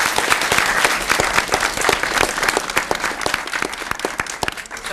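Sustained, even applause from a crowd honoring a high school senior serving as a student school board representative, loud and continuous throughout with no speech over it.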